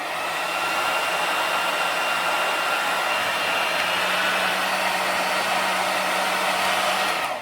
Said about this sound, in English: If I switch the hairdryer on,